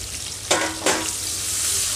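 Green chilies and onion dropped into a pan with frying dry fish, two sharp sizzling bursts as they hit the hot oil, then a steady crackling fry.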